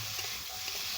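Vegetables being stirred and fried in a pan, a brief, continuous sizzling hiss with faint stirring texture.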